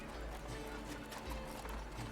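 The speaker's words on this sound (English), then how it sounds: "A horse when he's in the background at the track." A horse clip-clops and neighs at the track, a steady hoof rhythm held fairly low in the mix with faint background activity.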